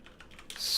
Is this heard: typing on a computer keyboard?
yes